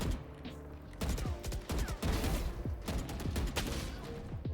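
Rapid bursts of gunfire in a first-person shooter game, several sharp shots in quick succession after a short pause, loud and close, with no speech.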